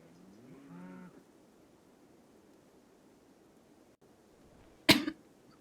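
A single sharp cough bursts out near the end after a long quiet stretch, preceded early on by a brief low lowing tone from a farm game's cattle.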